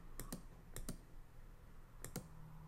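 Three pairs of quick, crisp clicks from a computer mouse, close and faint, spaced across a quiet room with no talking.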